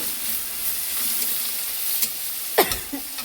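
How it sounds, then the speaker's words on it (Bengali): Onions frying in oil for a fish curry, a steady close sizzle and hiss with a few faint utensil clicks and a soft knock near the end. "তেলটা আবার ভেজে নিচ্ছি তেলের সঙ্গে পেঁয়াজটা ভালো করে ভেজে নেব"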